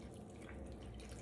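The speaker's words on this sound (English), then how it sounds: "I'm gonna pour the water" Water poured over ingredients in a cooking pot, a steady close splashing wash that fills the whole short moment, quiet overall with no talking.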